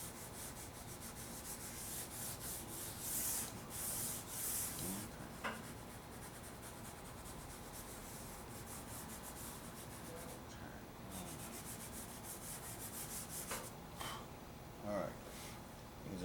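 Green pastel rubbed and smoothed over paper in a drawing, a faint continuous scratchy rubbing with a few brief louder strokes, close and quiet.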